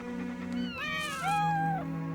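Stray cats in an animated cartoon meow in a short run of rising and falling cries, close and clear, overlapping slightly over a soft steady background tone.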